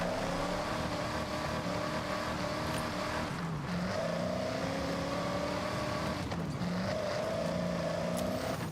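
A 1969 Dodge Charger engine in the Forza Horizon racing game gives a steady, loud, droning rumble that swells and dips in pitch as the revs rise and fall, playing alone without talk.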